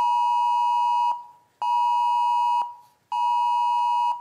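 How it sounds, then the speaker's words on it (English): A mobile phone emergency alert test tone sounds as three long, loud electronic tones of equal length, separated by short silent gaps, with no talking. "Like a test I think it went off on everyone's phone, like a natural disaster."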